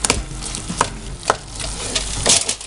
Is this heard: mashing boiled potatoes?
yes